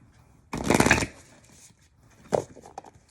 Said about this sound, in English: So I shuffled the deck